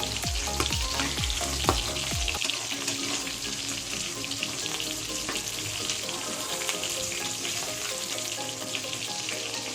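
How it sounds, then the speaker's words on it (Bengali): Rita fish frying crisp in hot oil gives a loud, steady, dense sizzle that fills the whole stretch, with a few low clunks near the start as pieces are moved in the pan. "ভেজে নিয়েছি মাছ, এবার সব মাছগুলো আমি তুলে নেবো এক এক করে।"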